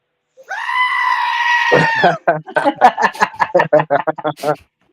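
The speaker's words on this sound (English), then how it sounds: "Should we do the goat scream?" A loud goat scream sound effect rings out, one long harmonic bleat followed by a rapid string of choppy stuttering bleats, close and alone.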